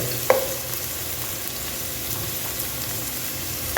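Cinnamon and cloves dropped into hot oil for kushka biryani, giving a steady, close sizzle with a few small pops and clinks and no talk.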